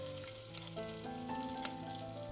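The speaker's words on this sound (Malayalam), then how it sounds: "ഇനി സവാളയൊന്ന് വഴറ്റിയെടുക്കാം." Thinly sliced onion and ginger sauté in oil for a green gram curry, giving a soft continuous sizzle with faint crackle, low in level with steady tonal hum in the background.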